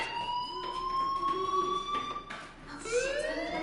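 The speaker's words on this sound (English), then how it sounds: "Hey, do you hear that fire alarm? That means you should be outside." Fire alarm ringing in the video game Life is Strange, a loud wailing electronic tone that sweeps and repeats continuously, heard alone without talk.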